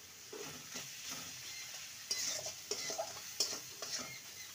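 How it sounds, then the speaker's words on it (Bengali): Spices with chilli powder are stir-fried in a pan, a quiet sizzle broken by sharp scraping taps of the spatula against the pan at irregular intervals, close and alone with no talk. "মশলাটাকে ভালো মতন কষিয়ে নেব।"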